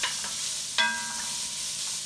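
Bacon and onions frying in a small amount of oil in a pan, with a steady close sizzle and a stirring scrape partway through.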